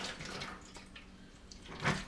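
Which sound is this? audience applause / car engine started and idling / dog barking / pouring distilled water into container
pouring distilled water into container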